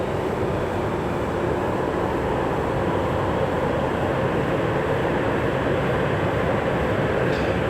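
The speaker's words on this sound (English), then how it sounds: "What you guys are hearing is that JetBlue finally pulling into their gate." A JetBlue airliner taxis into its gate at Raleigh-Durham airport, a steady, loud, broadband engine roar that holds evenly throughout with no voices.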